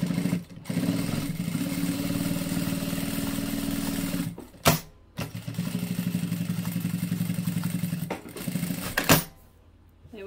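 A sewing machine runs steady top stitching along a zippered, fully lined boxed bag, a fast even whir in long runs broken by two short stops and clunks, with no talking.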